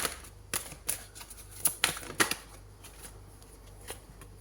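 Tarot cards being shuffled and laid down during a horoscope reading, a series of sharp papery flicks and snaps clustered in the first half, close and fairly quiet, with no talk.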